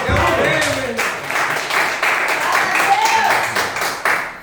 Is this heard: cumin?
no